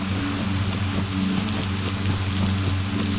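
Steady rain in the survival video game DayZ, a dense, even patter of drops falling continuously and fairly loud, with no voices over it.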